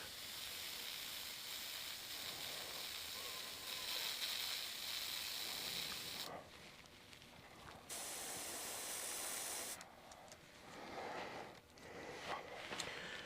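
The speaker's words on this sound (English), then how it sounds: "So we're just going to stick the airbrush down for a moment here" Steady airy hiss of an airbrush spraying paint onto a model bucket truck's cab mirrors, continuous and close, broken by brief pauses and restarts.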